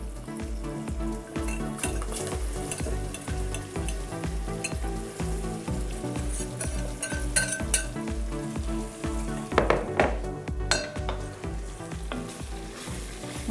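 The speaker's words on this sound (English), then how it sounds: "I'm going to add my vegetables very carefully because it's super hot oil," Vegetables for gumbo frying in very hot oil, a loud, dense, steady sizzle with rhythmic scraping and stirring strokes throughout, plus brief clinks of a utensil against the pot.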